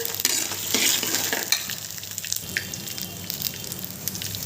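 Peanuts fry in a pan, a soft crackling sizzle with quick scraping stirs near the start, then a quieter bubbling hiss with light pops, close by and without talk.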